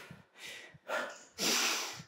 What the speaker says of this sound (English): Get some nasal breathing in.